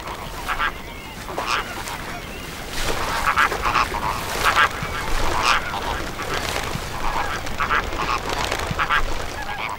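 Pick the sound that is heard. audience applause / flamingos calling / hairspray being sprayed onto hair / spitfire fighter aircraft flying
flamingos calling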